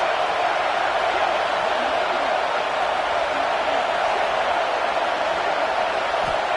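A stadium crowd at a Texas versus Vanderbilt college football game sends up a constant, dense roar that holds evenly throughout.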